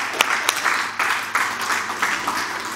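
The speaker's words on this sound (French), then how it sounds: "Applaudissons le Seigneur" A church congregation claps and applauds in praise, with several sharp claps standing out over a steady mid-level patter that swells and dips in waves.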